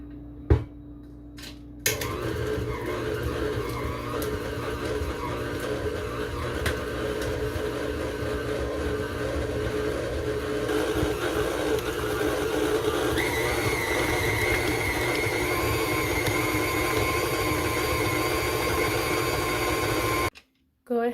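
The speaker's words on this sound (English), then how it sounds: "beat the cream cheese and the butter first until it's fluffy" An electric mixer beats room-temperature cream cheese and butter in a bowl for chocolate buttercream, a steady whirring drone running continuously and fairly loud for most of the stretch before cutting off near the end.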